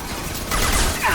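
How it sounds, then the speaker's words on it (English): A high-impact weapon shot fires in the video game Mass Effect 2, a short loud burst that swells into a broad, dense blast halfway through and carries on with a brighter crackle at the end. "Firing a high impact shot."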